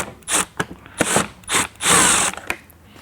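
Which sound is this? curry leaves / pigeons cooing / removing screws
removing screws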